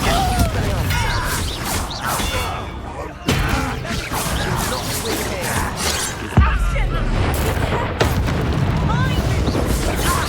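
Bombarda blasting spells in Hogwarts Legacy, a video game, go off as repeated loud booms and crashes over a dense, continuous din of battle effects, with sharp impacts near the middle and two-thirds of the way through.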